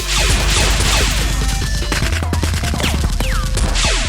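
Toy Nerf guns fire in a loud, busy burst of rapid pops and clacks, with foam darts thwacking on impact, and the dense volleys go on without a break.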